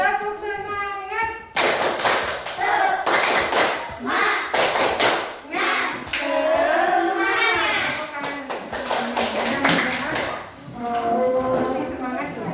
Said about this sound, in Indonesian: Masih ingat tepuk semangat? Tepuk semangat.